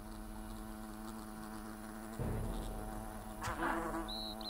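Wasps buzzing in the video game Fable: The Lost Chapters, a faint steady insect drone with a louder burst partway through and a brief high whine near the end.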